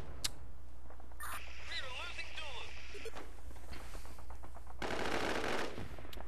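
Machine gun fire in the online shooter War Inc Battlezone: rapid, continuous automatic bursts through most of the stretch, mixed with game sound effects and a dense noisy blast near the end, while a player talks over it.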